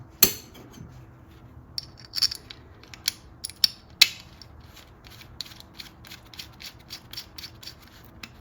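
Coil mounting bolts on a Nissan Versa being started by hand, giving a series of small, close metallic clicks and light scraping taps scattered irregularly, with a sharp clink near the start and another midway, no talking.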